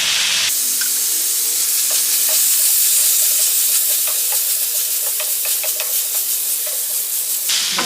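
Potato and cluster bean pieces frying in a pan, a loud, steady sizzle with light scraping and clicks of stirring throughout, close up and without talk.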